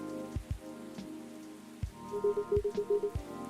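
Steady rain pours outdoors in the Coffee Talk 2 video game, a continuous patter with a few soft low thuds and a quiet repeating melodic phrase near the end.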